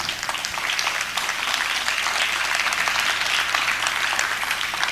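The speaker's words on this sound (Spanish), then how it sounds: "recibamos esta declaración con un aplauso" A large audience at a citizens' forum applauds together, producing dense, steady clapping that holds at a fairly loud, even level for the whole stretch, with no voices on top.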